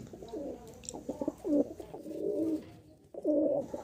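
American Lakkha fancy pigeons at a pigeon farm coo in repeated low, rolling calls, close by and fairly soft, over a faint background.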